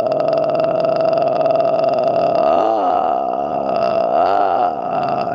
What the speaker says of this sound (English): taught us how to do vocal warm-ups